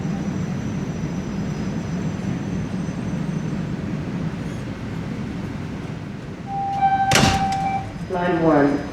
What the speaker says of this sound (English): Doors will open on the right.